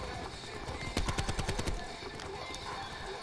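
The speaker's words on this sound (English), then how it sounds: "Bro, I keep hearing footsteps." Footsteps from Call of Duty Black Ops 4 multiplayer, a quick run of crisp thuds bunched near the middle of the stretch, set against steady loud game noise and other sharp hits.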